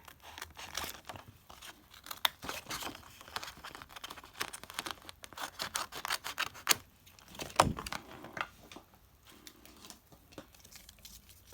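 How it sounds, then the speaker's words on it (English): Cardstock being cut by hand for Halloween ruffle embellishments, heard as close, irregular snips and crisp paper crinkles scattered across the stretch, with one sharper crunch near the end and no talking. "now grab cardstock and I'm gonna cut about here"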